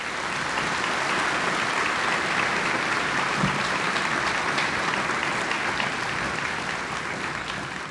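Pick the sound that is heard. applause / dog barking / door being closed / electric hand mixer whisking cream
applause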